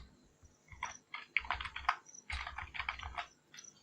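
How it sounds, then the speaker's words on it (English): Fingers tap out short bursts of keystrokes on a computer keyboard, close and crisp, in quick irregular clusters separated by brief pauses, with no voice over them. "So I'll just type Theolabi,"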